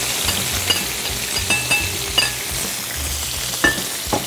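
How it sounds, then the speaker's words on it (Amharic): Soya chunks and onion sizzle steadily in a hot pan, with a continuous frying hiss broken by repeated scraping and clinking stirring strokes close up, no voices. "ያገላበጣችሁ ሶያውን ከ ሽንኩርት ጋር ማብሰል"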